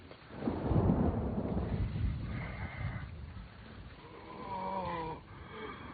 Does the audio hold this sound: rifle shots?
no